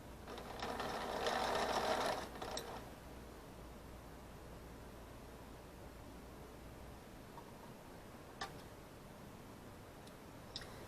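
A sewing machine stitching a quilt border runs in a short, fairly quiet buzzing burst of about two seconds, followed by soft handling sounds and faint clicks.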